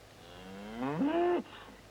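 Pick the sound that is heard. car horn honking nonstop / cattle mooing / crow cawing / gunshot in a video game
cattle mooing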